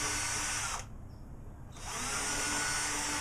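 A power drill boring small holes for drawer pulls in a handmade wooden checkerboard gift, a steady high whine that drops out for a second in the middle and then runs again, close and loud with no talking.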